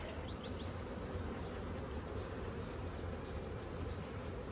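Honey bees from an opened double hive buzz steadily around, a dense, continuous hum with a few individual bees zipping close by near the start, moderately quiet overall.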